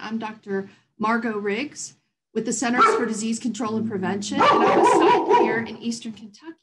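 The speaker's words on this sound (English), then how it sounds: "I apologize for my dog barking in the background." A dog barks in the background of a home setting while someone speaks over it continuously, the barks loud enough to break through her voice.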